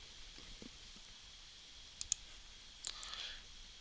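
A computer mouse on a desk, a couple of sharp, quick clicks close together, then another small cluster of clicks, faint against a quiet background hiss.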